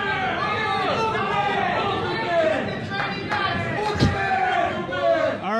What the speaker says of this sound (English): if we could all stop yelling Booger Man